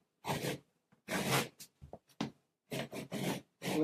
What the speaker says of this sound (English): Hold the knife straight. Make sure it runs along the guide and make a deeper cut this time.